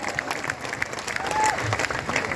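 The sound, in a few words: children applauding loudly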